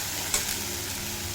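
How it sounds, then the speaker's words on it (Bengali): Spice paste sautéing in a pan for a red lentil and green papaya curry, a steady close sizzle with a brief stirring scrape near the start, no voices. "এবার এড করে দেব পেস্ট করে রাখা মশলা দিয়ে খুব ভালোভাবে কষিয়ে নেব"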